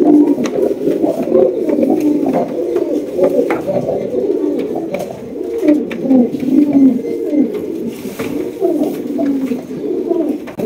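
Pigeons kept for sale coo close by in a continuous, overlapping stream of soft throaty calls that pulse and rise again and again, with no talk.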